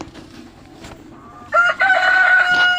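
A rooster in a chicken coop crows once, loud and close, after a quieter stretch of faint farmyard background sound.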